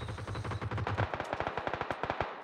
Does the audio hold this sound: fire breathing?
no